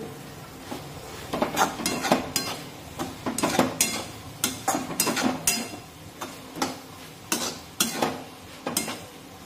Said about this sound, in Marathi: आणि सुकट थोडीशी खालीवर करून घेऊ.